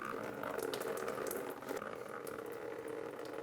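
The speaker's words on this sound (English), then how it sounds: "We're going to open this petcock and drain some of the radiator fluid" Radiator coolant draining through an opened petcock on a 2010–2015 Lexus RX350, a steady low trickle and splash of liquid, close but fairly quiet, running continuously with no talking.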